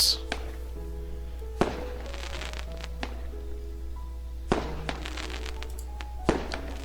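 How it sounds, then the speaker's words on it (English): Fireworks burst in the Doki Doki Blue Skies game in a sparse sequence of sharp booms followed by crackling tails, with several distinct explosions spaced a second or two apart. "The intense colors and fervent display of the first round of fireworks are too good to ignore"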